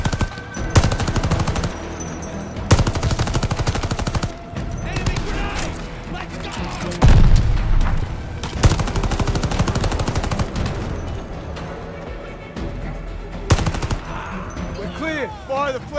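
Heavy gunfire in a Call of Duty: Vanguard cutscene, loud machine-gun bursts and rapid shots with booming impacts, near and intense, with voices shouting over the battle.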